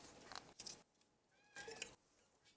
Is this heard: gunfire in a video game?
no